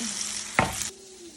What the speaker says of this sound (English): While that's searing